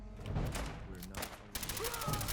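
Gunfire in Fallout 4: several rapid bursts of shots crackle in quick succession amid combat noise, with a voice shouting in between.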